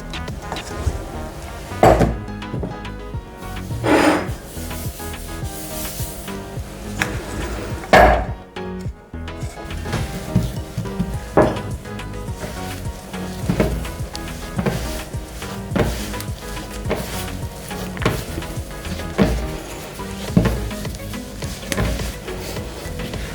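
Bread dough for poppy seed buns being kneaded by hand on a kitchen table, with repeated soft thumps and slaps in an irregular rhythm, close by, alongside occasional knocks of bowls and utensils.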